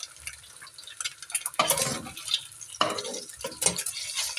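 Eggs frying in a pan for egg pakoras, with intermittent scraping and stirring strokes over a steady crackling sizzle, close up and moderately loud, with no talking.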